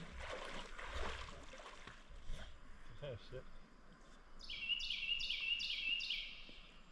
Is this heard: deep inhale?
no